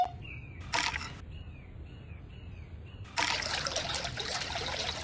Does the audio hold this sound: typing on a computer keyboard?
no